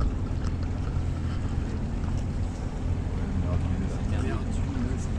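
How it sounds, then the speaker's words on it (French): A houseboat engine idles with a steady low rumble under wind noise and lapping water, running continuously throughout. "on fait un peu tourner le moteur."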